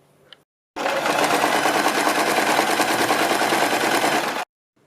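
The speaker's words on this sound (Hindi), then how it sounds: "बीच में से फोल्ड करने के बाद हम इसके इस साइड इसके ऊपर सिलाई लगाते हैं।" A sewing machine stitches along a folded fabric strip for a kurti or blouse neck design, one loud, close, continuous rattling run of about four seconds with silence before and after.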